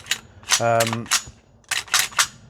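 An APFG Sig Spear LT 11.5 airsoft gas blowback rifle fires full auto at an outdoor range in a few short, sharp, snappy bursts with clacking bolt action, close and loud.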